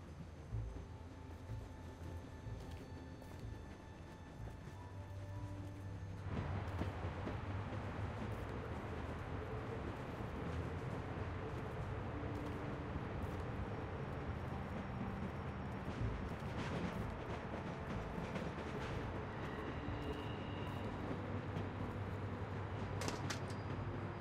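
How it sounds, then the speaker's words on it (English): In a Walking Dead game scene, a train is brought to a halt. A heavy rumbling roar swells abruptly and then grinds on steadily, with scattered clanks and thuds, loud and close and without talk. "I'll get this train stopped right quick. I'm stopping the train."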